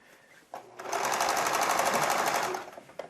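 A sewing machine stitches fabric along a curved seam, starting with a couple of clicks and then running in a steady, close, rapid whir for about two seconds before it stops.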